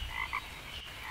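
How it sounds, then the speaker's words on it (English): Frogs croak in a rainforest, forming a dense, continuous chorus of raspy calls with a few brighter chirps on top, heard alone without any talking. "I can hear the birds chirping and the frogs croaking."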